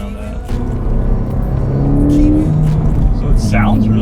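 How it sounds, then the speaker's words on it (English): A 2016 Ford Fiesta ST's exhaust note hums steadily while driving, a continuous low engine drone with mild revving swells, sitting under a person talking throughout. "it's got the good little exhaust note going on it."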